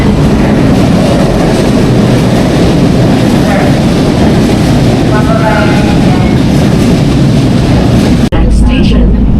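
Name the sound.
LRT train ride in Manila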